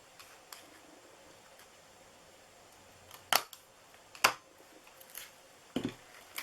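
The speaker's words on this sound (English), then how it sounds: "So I'm going to punch it a little further down." A handheld hole punch snapping through paper for a Christmas treat ornament, three or four sharp isolated clicks spaced about a second apart, close and crisp against a quiet room.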